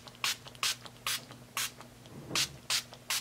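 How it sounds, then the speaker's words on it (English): Several short hissing bursts from a Wet n Wild Photo Focus Matte Setting Spray pump, spaced irregularly and fairly close, with a faint steady hum underneath and no talking. "So I got this Wet n Wild Photo Focus Matte Setting Spray."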